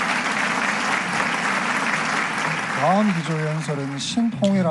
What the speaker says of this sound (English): let us give another round of applause to the Honorable Mark Esper